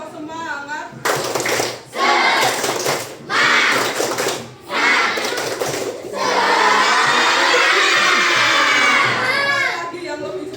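A sixth-grade class chants and claps out a rhythmic spirit cheer in unison, bursts of loud clapping and shouted children's voices separated by short pauses, ending in a long sustained group shout.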